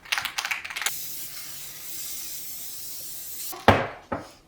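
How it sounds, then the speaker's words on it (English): Spray adhesive hisses from a can in one steady three-second burst, with close tapping clicks before it and a short sharp spurt and rattle after. "Spray and then glue. And just spray the rest all the way down."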